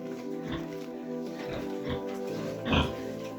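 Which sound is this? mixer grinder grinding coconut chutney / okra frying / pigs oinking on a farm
pigs oinking on a farm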